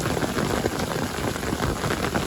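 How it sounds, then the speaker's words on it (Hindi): Heavy rain pours down in a dense, steady hiss with drops pattering on surfaces throughout, close and loud, with no voices. "लेकिन बारिश इतनी तेज़ आ रही है कि भीग ही जाऊँगा कहीं ना कहीं"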